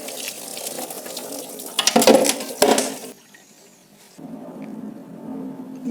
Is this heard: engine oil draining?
yes